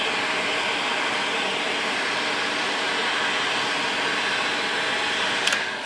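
A heater warming a can of spray paint for wrinkle painting a valve cover blows a steady, moderately loud airy whir that runs unbroken, with a brief small clatter near the end and no talking.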